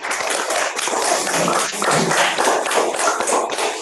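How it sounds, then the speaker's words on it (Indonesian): Children in an elementary classroom clap their hands together in a dense, steady patter that fills the room for several seconds, loud and continuous without speech. "Tepuk tangan lagi nih."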